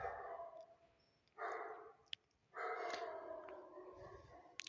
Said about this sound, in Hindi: कुत्ता भौंक रहा है, ध्यान रखना